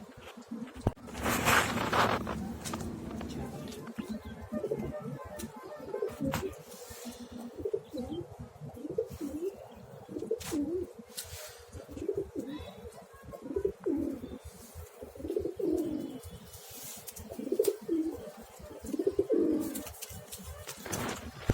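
Domestic pigeons coo in a steady series of soft, throaty, rolling calls close by, repeating in rhythmic phrases with brief pauses between them and no talking.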